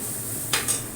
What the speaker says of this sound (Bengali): এবার আমি ভাজবো এরকম ভাবে, পেঁয়াজটাকে ভাজা ভাজা হয়ে যাবে